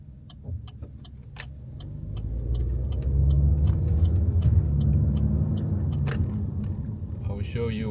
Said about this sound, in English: I was waiting for that car to go